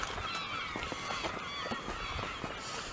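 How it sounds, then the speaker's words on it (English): Many seagulls call at a seafront beach at night, overlapping honking cries near and far over a steady background wash. "All the seagulls in the background you can hear."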